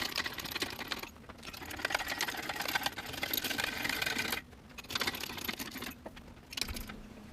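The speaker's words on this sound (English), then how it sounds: "I'm going to show you how the bubble jack can raise and lower the tabletop about 6 to 8 inches." A bubble jack raising the top of an adjustable welding table gives off a close, busy mechanical rattling buzz in several stretches broken by short pauses.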